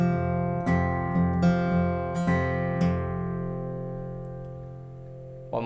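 Played slowly on acoustic guitar, a song's picking pattern sounds a series of gentle plucks and light strums in an even rhythm, notes ringing out and fading, quiet and unaccompanied.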